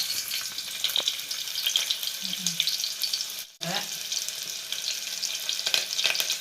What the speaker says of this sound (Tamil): இப்போ எண்ணெய் காஞ்சிச்சு, வெங்காயம் போடுறேன்.